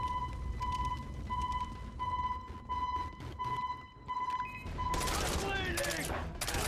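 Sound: burst fire gun shooting in Far Cry 3 video game

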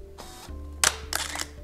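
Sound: camera shutter click of a camera

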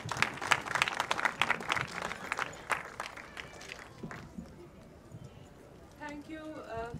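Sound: audience applause for speaker

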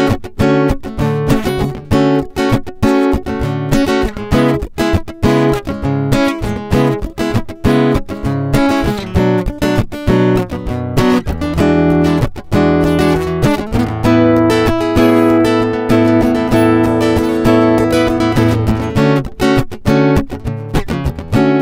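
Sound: Fender CD-60SCE all-mahogany acoustic guitar being played

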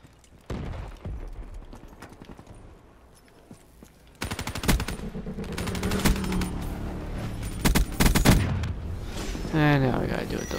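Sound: gunfire in a video game

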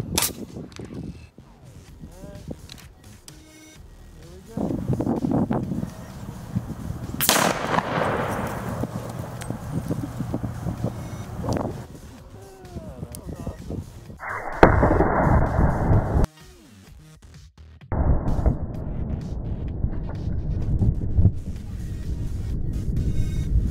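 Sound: rifle shot hitting exploding target at 100 yards

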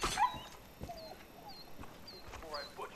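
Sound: dog whimpering in video game Far Cry New Dawn

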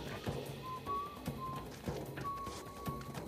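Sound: guard whistling in the video game Uncharted 4

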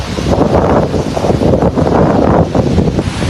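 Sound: wind and rain

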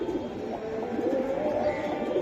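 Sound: pigeons cooing

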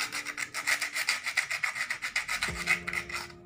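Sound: sanding metal edges with sandpaper

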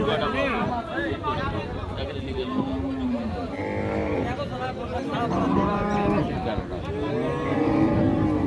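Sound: cows and calves mooing at a cattle market

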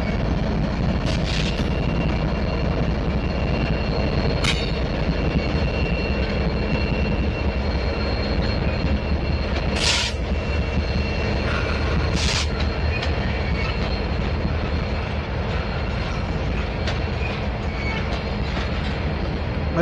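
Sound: freight train with two locomotives passing

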